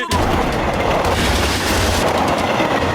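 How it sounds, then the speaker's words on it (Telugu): A runaway train with no driver, in an animated cartoon, approaches on the tracks with a loud, continuous rumble and rattle of wheels. The roar stays close and steady throughout. "ఆ ట్రైన్ వచ్చేస్తుంది సార్, రండి వెళ్ళి చూద్దాం."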